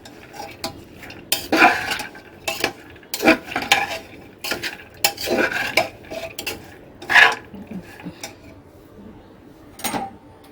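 Butter dal and meat curry ingredients mixed by hand in a metal bowl or pot, giving irregular squelching, scraping and clinking bursts, fairly close and moderately loud.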